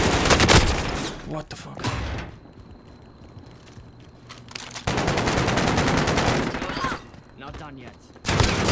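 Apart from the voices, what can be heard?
gunfire in the video game Warzone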